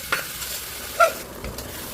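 Mashed tapioca is stirred into a pan of hot coconut oil tempering with curry leaves. Faint scraping strokes sound over a soft sizzle, with a couple of sharper clicks of the spoon.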